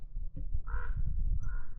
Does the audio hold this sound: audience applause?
no